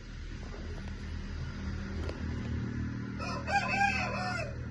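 A black Aseel rooster crows once, fairly near and clear, against a low rumbling background hum.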